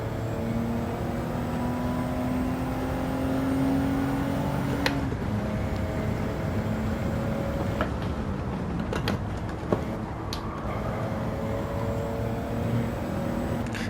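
A car engine in Gran Turismo 7 on PS5, driven with a clutch and shifter on a Moza R5 wheel, hums steadily and changes pitch with the gear shifts, with a few mechanical clicks and no talking.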